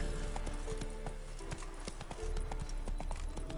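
Horse hooves clip-clop at a brisk, steady pace in The Witcher 3, close and clear over a low background bed, with no talking.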